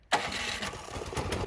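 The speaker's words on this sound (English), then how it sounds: "Then hit the start button." A Craftsman Select 26 snowblower engine cranks on its electric starter and catches almost at once, running loudly and steadily at close range without any talk.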